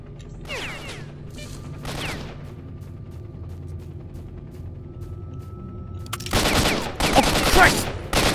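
Gunfire in the STALKER video game: a dense fusillade of rapid shots bursts in loudly near the end after quieter ambient game noise and a few scattered earlier sounds.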